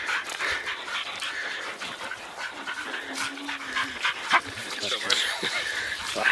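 Hunting dogs panting and yelping in a wet pine forest after catching a sow during a rainy pig hunt in New Zealand, with steady close panting and scattered barks under rustling noise.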